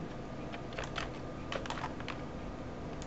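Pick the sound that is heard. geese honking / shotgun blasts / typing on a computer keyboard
typing on a computer keyboard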